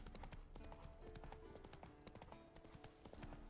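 Horse hooves clip-clop steadily in The Witcher 3, a rapid run of close, crisp strikes continuing throughout under faint ambient game sound.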